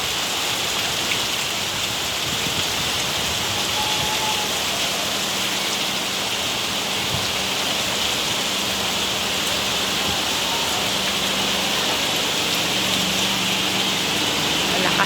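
Heavy rain pours steadily in a dense, continuous hiss, with gusting wind blended into the downpour throughout.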